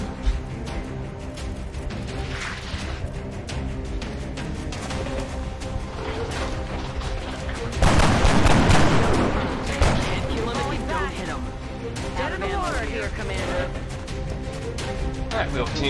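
Sporadic gunshots and a louder burst of fire from the video game XCOM Long War crack in under continuous game music and sound effects, with someone talking over parts of it.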